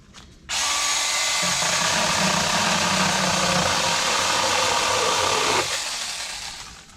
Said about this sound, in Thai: เดี๋ยวเราจะใช้เครื่องตัวนี้นะที่เป็นโอทุกะ เลื่อยไฟฟ้า ไร้สาย